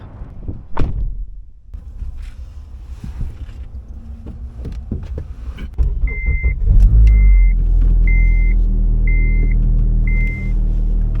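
An 8th-gen Honda Civic coupe with a swapped K24 engine: scattered clicks and knocks give way to the engine catching into a steady, loud rumble, while a repeating electronic chime beeps over it.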